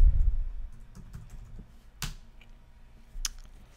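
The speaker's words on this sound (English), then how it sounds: "I'm going to type in my password." Someone types a password on a computer keyboard while installing Mac OS X Yosemite onto an SSD. A few sparse, quiet key clicks sound over a low room hum.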